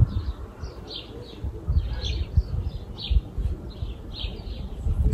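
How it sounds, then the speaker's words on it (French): Small birds chirp in quick repeated bursts at a moderate distance, heard from a balcony, over a low, uneven background rumble. "Écoutez les oiseaux."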